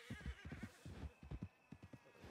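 A startled horse in the El Rancho RP video game whinnies over rhythmic hoof clip-clops, faint and fairly close, with no talking.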